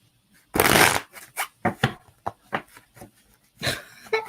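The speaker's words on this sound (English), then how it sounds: "I can't shuffle." Tarot cards being shuffled by hand in a quiet room: a long riffle burst followed by a rapid series of short slaps and flicks, close and crisp, with another riffle near the end.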